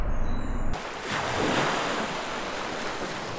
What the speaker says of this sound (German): Am Meer höre ich das Rauschen